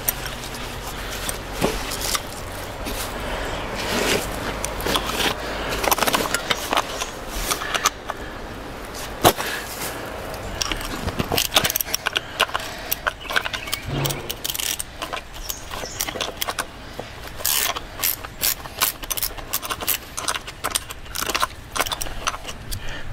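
Metal wrenches, 9/16 and 1/2 inch, clinking and rattling as they are handled near an old bullnose cabover truck, a close, busy run of irregular jangling metallic clatters that continues throughout.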